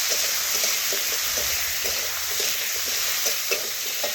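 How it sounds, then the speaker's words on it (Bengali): Pointed gourd fries in a pan while it is stirred, with a steady close sizzle of hot oil and soft scraping strokes of the spatula repeating every second or so. No one talks. "এখন আবারও একটু নাড়াচাড়া করে নিচ্ছি"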